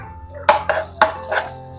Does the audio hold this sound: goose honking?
no